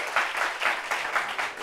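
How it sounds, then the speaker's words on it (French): A studio audience on a French talk show keeps up steady applause, with a pulsing rhythm of many hands clapping together. "Applaudissez bien."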